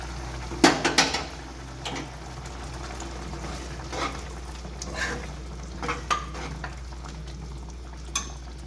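Onions added to butter sizzle softly in a pan for a Shahi chicken gravy, with a few sharp clinks of a spoon against the pot near the start and low, steady frying underneath.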